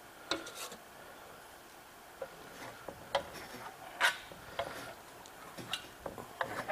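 Steel trowel scraping and rubbing venetian plaster across a wall, a soft continuous rasp broken by sharp clicks and scrapes as the blade touches down, close and fairly quiet with no talk.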